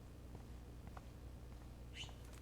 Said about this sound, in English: It's a blue jay too.